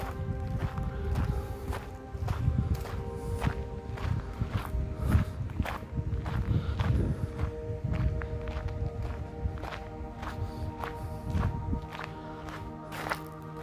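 Footsteps of a person walking through a stone fortress at Yedikule, steady repeated steps close by, with some background hum and no speech.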